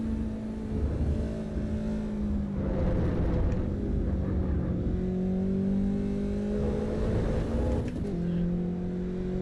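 A race car engine in the racing game Assetto Corsa Evo during a time trial holds a loud, sustained drone, its pitch rising and falling as it revs through gears, with one brief dip near the end.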